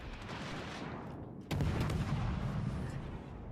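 Warship gunfire in the naval game World of Warships: Legends: a steady rumbling roar of cannon fire under the battle noise, with a heavier boom that thickens the barrage midway and keeps it dense and loud.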